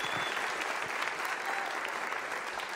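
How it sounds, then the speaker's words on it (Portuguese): An audience at a live concert claps steadily and densely throughout, a fairly loud, even wash of applause with no talk over it. "Uma salva de palmas, por favor."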